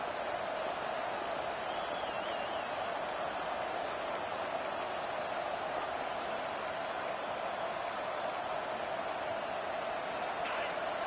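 A stadium crowd at a college football game, Oklahoma against Texas A&M, keeps up a steady, dense roar that fills the whole stretch without a break, with scattered faint whistles and sharp cries rising above it.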